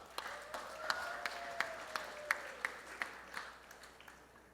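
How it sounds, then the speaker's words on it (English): Sparse, modest applause at a political gathering, with a dozen or so distinct claps in slow, even rhythm over a faint crowd murmur and a background tone. "A round of applause."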